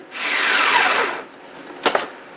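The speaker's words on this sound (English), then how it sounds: "Again, very fine powder, and this is actually quite hard to grind up." A hand grinder or small power tool grinds hard laundry soap into a fine powder, a loud continuous grating whir lasting about a second, then a pause and two brief sharp bursts.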